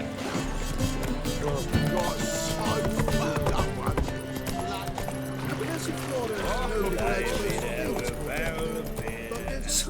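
Roach, the horse in The Witcher 3, gallops with steady clip-clop hoofbeats close by, set against in-game music and ambience. A neigh comes through, and someone speaks over the action.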